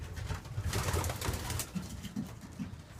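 Soft, low cooing of several racing pigeons close by in a loft, overlapping murmurs under a steady hiss of room noise.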